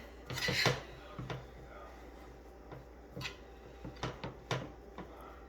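Utensil scraping and rasping in a pan of bacon-grease fideo with salt just added, a loud stir up front followed by a string of short, quieter scrapes and taps spaced irregularly.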